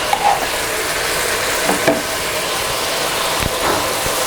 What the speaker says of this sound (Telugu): పచ్చివాసన పోయేంత వరకు వేయించుకోవాలి